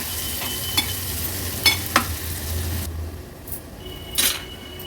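Finely chopped onion frying over a medium flame in a pan, a steady sizzle with a few sharp stirring scrapes and clinks of a spoon against the pan; the hiss eases partway through, then another utensil scrape follows.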